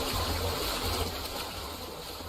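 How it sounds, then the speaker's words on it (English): Loud, steady rush of falling water like a waterfall in a night scene of a video game, a continuous broadband roar with no talk over it. "A loud sound of falling water, like a waterfall, suddenly disrupts the silence of the night."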